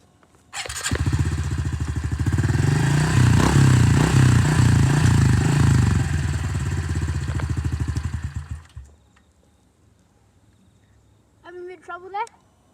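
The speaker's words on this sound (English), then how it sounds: "Today we're going to be riding dirt bikes at my nan and pop's house" A dirt bike engine at a family house starts up and runs loud and close for about eight seconds, rough and revving with a rattly, pulsing tone, then cuts off; a brief voice is heard near the end.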